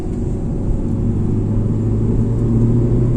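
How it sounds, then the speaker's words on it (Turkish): Hyundai i20 car accelerating under throttle on a test drive, heard from inside as a loud, steady low engine rumble with a rising tonal drone, continuous and close. "şu an çektim mesela ayağımı ve gaza basıyorum"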